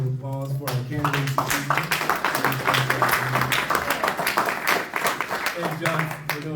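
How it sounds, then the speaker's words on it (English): An audience claps for political candidates at an evening event hosted from a dais, a dense steady round of applause under and between a man's amplified speech. "All right, one more round of applause for our candidates."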